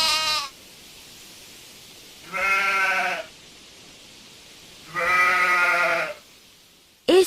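A sheep gives three drawn-out bleats, evenly spaced and clear, each standing alone against a quiet background.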